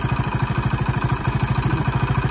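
A Hero Splendor Plus motorcycle engine idles close by during mileage adjustment, with a steady, regular low putt-putt pulse and light mechanical clatter throughout.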